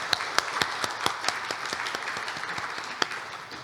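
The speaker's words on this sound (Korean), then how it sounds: "네, 큰 박수 부탁드립니다." Audience applause at a public briefing unveiling a revamped training program for new labor inspectors, steady clapping from a crowd sustained throughout with a few sharper individual claps standing out.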